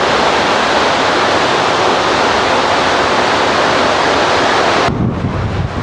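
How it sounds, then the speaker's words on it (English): Loud, continuous roaring rush of waves and wind against the bow of a cruise ship in the Bay of Biscay, heavy and unbroken, with the top end suddenly muffled near the end. "you can really see some of the waves crashing up at the front"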